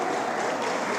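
A church congregation applauds together in a dense, steady wash of clapping that holds at an even level from start to finish, with no voices standing out.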